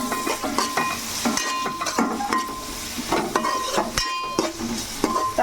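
Tomatoes added to frying onions in a pan: loud, close sizzling with repeated scraping and clinking of a spoon against the pan as the mixture is stirred.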